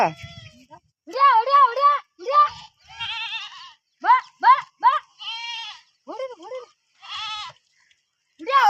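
A herd of goats bleats in a rural field as rain approaches, with many loud wavering calls coming in short bursts at an irregular rhythm, close by and clear.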